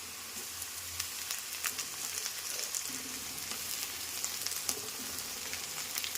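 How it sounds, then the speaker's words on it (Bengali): Grated ginger and onions fry in a pan for a spicy crab dish, giving a soft, continuous crackling sizzle with occasional stirring scrapes, fairly quiet and even throughout. "এবার আদাটাকেও মোটামুটি একটুখানি ভাজা ভাজা করতে হবে"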